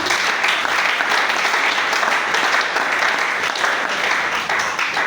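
A church congregation applauds loudly and steadily, a dense wash of clapping from many hands filling the room for about five seconds with no speech over it.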